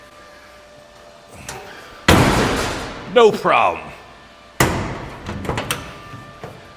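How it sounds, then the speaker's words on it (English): A car door on a custom build with new running boards being swung shut twice, each a sharp, loud slam with a short ringing tail. Someone speaks briefly between the slams. "the whole goal was to get that door to close."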